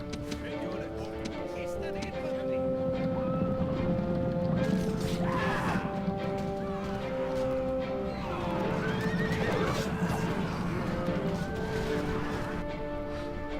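Horses whinny and neigh amid clattering hooves and crashing battle noise from horse archers in Rome: Total War, a dense game-like soundscape with steady background rumble.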